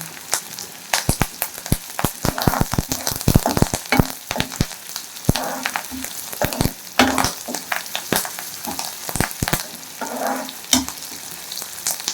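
Spices and curry leaves crackle and sizzle in hot oil, with sharp pops and spits scattered through a steady frying hiss, close by and lively throughout.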